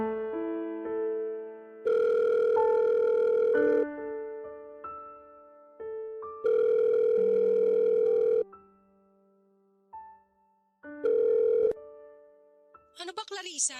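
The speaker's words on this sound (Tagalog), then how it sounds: "Gabing-gabi na tumatawag ka pa." Electronic telephone call tone rings in repeated loud bursts separated by pauses during a late-night phone call, with a brief chirp near the end.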